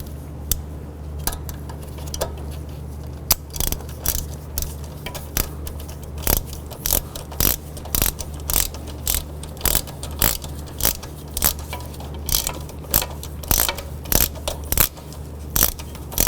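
Wrench work tightening a 10mm nut during a water pump replacement on a 2007-11 Honda Civic, a rapid series of sharp ratcheting clicks and metallic taps repeating close up with no talk.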